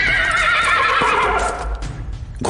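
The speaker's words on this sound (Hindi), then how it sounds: "घोड़े दहशत में हिनहिनाते हुए अपने पिछले पैरों पर खड़े हो गए।" Panicked horses rearing up as they pull a carriage at night, giving a loud, shrill, quavering whinny that trails off, with a faint scuffling thud as the sound cuts out.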